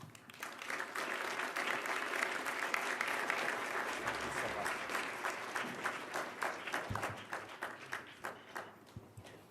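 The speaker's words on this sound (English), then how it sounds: "I think you also heard a warm applause that your call to action was well received" Warm, sustained applause from a large conference audience after a keynote address at a World Economic Forum plenary, dense clapping throughout that thins slightly toward the end.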